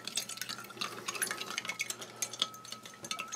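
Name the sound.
stirring ration drink powder with cold water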